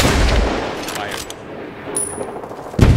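Gunfire in the Medal of Honor Warfighter video game: a loud shot up front, a dense rattling tail and metallic clinks, then another sharp blast at the end.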